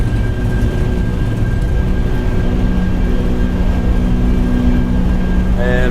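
An Airbus A330 in X-Plane 12 roars at takeoff thrust, a loud, steady broadband engine rumble with thin whining tones on top, holding level throughout while a voice speaks over it.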